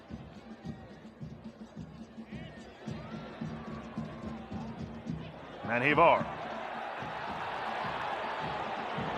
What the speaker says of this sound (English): Crowd urging their country on